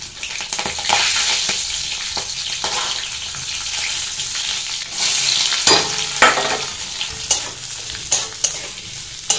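Chilies frying in hot oil give a steady, close sizzle throughout, with scraping stirs and sharp clicks of a utensil against the pan growing more frequent toward the end.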